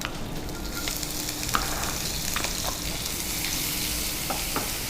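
Onions sizzle and fry steadily in a pan for oggarane dosa, a dense continuous crackle with a few sharp clinks of a utensil stirring, loud and close with no voices.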